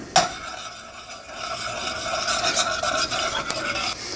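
Homemade BBQ sauce of ketchup, vinegar and sugar being stirred in a container, a continuous close scraping and swishing with a brief clink at the start, no voices.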